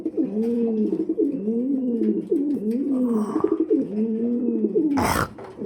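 King Lahori Mundi pigeons coo steadily and close by, rhythmic rolling coos repeating throughout, with a brief rustle or flutter near the end.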